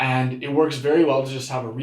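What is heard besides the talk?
No everyday noises stand out.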